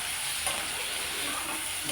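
Ginger, three green chillies, salt and chopped onion sauté in a hot pan, producing a steady, close sizzle and hiss throughout with faint stirring and no voices.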